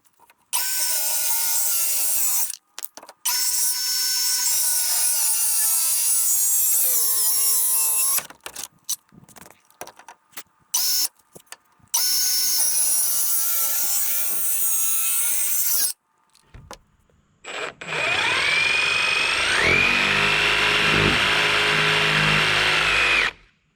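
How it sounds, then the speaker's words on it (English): A jigsaw or reciprocating saw cuts through a wooden stair stringer in several long, loud bursts separated by short pauses, with a final stretch of higher-pitched, shifting cutting. "So I'll just come back with a jigsaw or sawzall and just cut the little extra"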